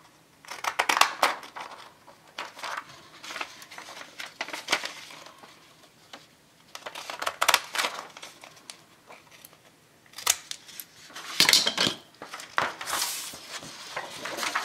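Scissors cutting decorative design paper for a baby album, a close series of crisp snipping and rustling bursts at uneven intervals, fairly quiet overall.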